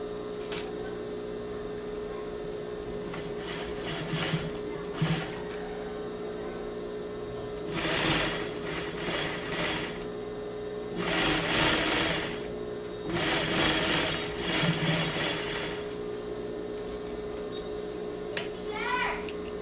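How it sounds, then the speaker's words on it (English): A sewing machine stitches a zipper onto a homemade sling bag, running in several steady whirring bursts of a few seconds each, separated by quieter pauses with faint handling noise and a steady background hum. "sew the zipper here"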